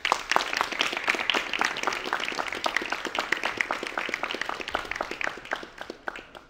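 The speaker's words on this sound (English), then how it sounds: "please give a welcome applause to Oleksandr Yabchanka" A welcoming round of applause rises from an event audience for a company commander, a crisp flurry of individual claps that stays fairly close and gradually thins and fades toward the end.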